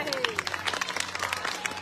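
A brief burst of dense audience applause at a women's assembly gathering at a Kabir ashram in Nagpur, with many hands clapping at once and a faint tonal sweep underneath.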